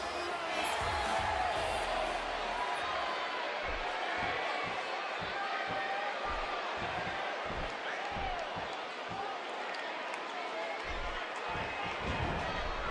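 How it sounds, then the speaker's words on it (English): Steady crowd buzz fills an arena in a WWE 2K wrestling video game, a dense murmur of many voices with occasional cheers, punctuated by low thuds throughout. "Will you listen to the buzz in the crowd?"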